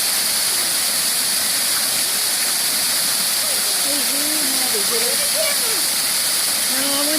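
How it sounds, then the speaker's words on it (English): A waterfall in Southern Illinois roars as a constant, loud rush of falling water, with faint voices heard in the background. "This is a waterfall."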